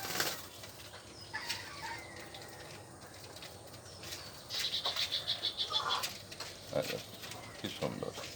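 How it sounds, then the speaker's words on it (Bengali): A dove shut in a small cage at home flaps its wings in a few quick, close bursts against the bars, with voices and room noise in the background. "ঘুঘু বের হওয়ার জন্য মনে হয় চেষ্টা করছে"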